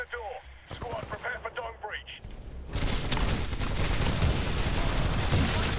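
Heavy, sustained gunfire in Titanfall 2 fills the second half, a dense loud fusillade of rapid shots following a stretch of quieter in-game sounds with voices.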